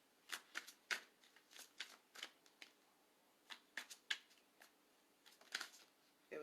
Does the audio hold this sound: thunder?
no